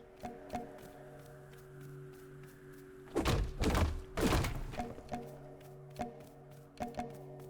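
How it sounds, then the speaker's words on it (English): A stick hacking at trees in the game Drake Hollow, heard as a run of dull wooden thunks and taps, with two louder, longer crunching impacts in the middle over a low steady hum. "Hack down trees with a stick."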